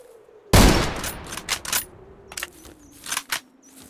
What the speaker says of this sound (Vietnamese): Có tiếng súng kìa.